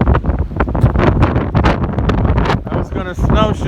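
Wind buffets the microphone outdoors on a winter nature trail at Point au Roche, a rough, gusty rumble that stays loud throughout while a person talks over it.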